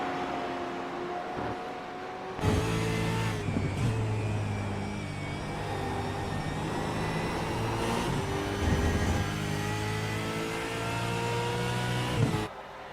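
Race car engines roar around a road course in an ARS Push Rods & Popcorn series race at Glen, with cars revving and shifting through gears, several passing loudly and continuously.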